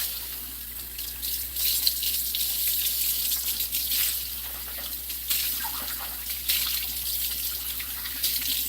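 Water runs steadily from a kitchen tap as a pan used for chocolate buttermilk pancakes is rinsed, a continuous close splashing hiss with brief surges and no talking.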